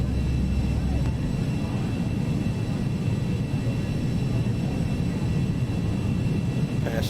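Steady broadband roar of a Cessna Citation XL560 business jet's engines in the Prepar3D flight simulator during a climb after flap retraction, a constant cockpit drone with no break.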